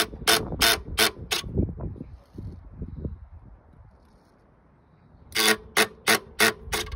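Faulty motor of an electronic front derailleur on a bicycle, sharp rapid metallic clicking bursts at the start and again at the end, with quieter mechanical rattling and near silence between.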